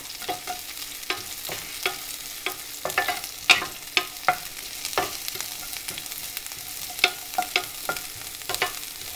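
Thinly sliced onion and Brussels sprouts fry in a pan for an Indian-style stir fry while a utensil stirs them. Quiet steady sizzling runs under repeated soft scraping clicks from the stirring, close by, with no voices.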